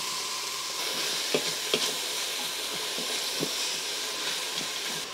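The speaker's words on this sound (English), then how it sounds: "we're going to add the onion, celery, and leek. And we're gonna saute that for 5 to 7 minutes" Onion, celery and leek sauté in an Instant Pot with a steady sizzling hiss, broken by a few soft scraping stirs of a utensil; close, continuous and alone without speech.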